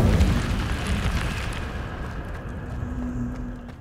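A fire spell cast in the game Hogwarts Legacy bursts out with a loud, rumbling whoosh at the start and then roars and crackles steadily as it fades, with no talk.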